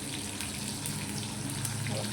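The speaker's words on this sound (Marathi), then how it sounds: "इथं गरम पाणी झालंय, गरम पाणीच ओतायचं म्हणजे भाजीला चव येते." Hot water pours into a ridge gourd curry cooking in a pan, a steady low rushing gush with sizzling underneath, continuous and close.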